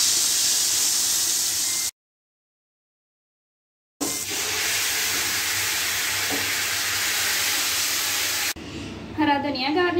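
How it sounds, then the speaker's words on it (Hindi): Steady hissing sizzle of hot spiced oil tempering poured onto kadhi pakoda curry, broken by a short silence, then resuming before a brief voice at the end. "ये जो तड़का बनाया था ये इस पर डालते हैं।"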